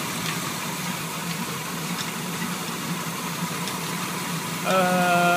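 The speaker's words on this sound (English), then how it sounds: "Vibrating AC belt, and it is tight. See, it's noisy too." An idling 1981 K10 truck engine hums steadily with a vibrating, noisy AC belt adding a rough buzz, and a louder whine rises near the end.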